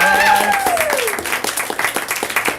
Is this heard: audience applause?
yes